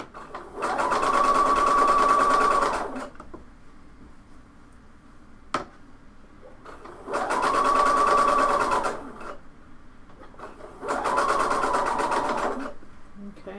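A sewing machine whirs in three steady runs of rapid stitching on a top, each lasting a few seconds, with quiet pauses and a small click between.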